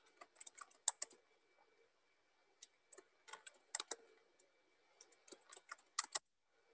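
Computer keyboard keys clatter in short bursts of quick taps and pauses while code is copied and pasted, close and fairly faint, with no talk.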